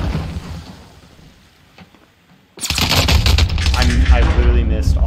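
Rapid gunfire from a carbine in an online shooter game bursts in loudly after a quiet stretch, dense and continuous, with a voice talking over part of it.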